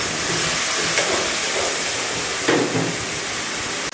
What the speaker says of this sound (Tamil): இது வதங்கட்டும் நல்லா.